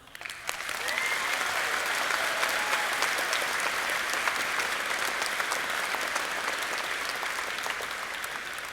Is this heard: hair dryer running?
no